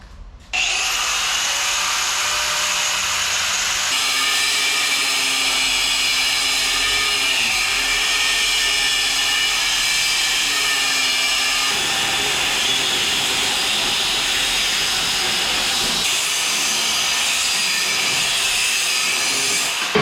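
A power tool cuts through a clamped suspension part for a 1985 Toyota 4Runner overland build. A loud, steady, close-up whine grinds on without a break for about twenty seconds, shifting slightly in tone partway through.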